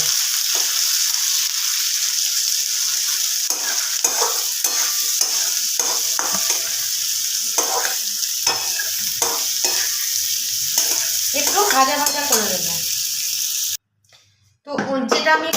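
Ginger pieces and half a tomato fry in a pan for an egg curry, hissing in a steady, bright sizzle. A spoon scrapes and stirs now and then, a voice talks briefly, and the sound stops near the end.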